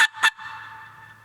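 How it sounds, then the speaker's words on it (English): A loud turkey hunting locator call rings out in two sharp, harsh blasts in quick succession, close and piercing, then fades into a lingering ringing tail with no talk. "It's a locator call. It's really loud"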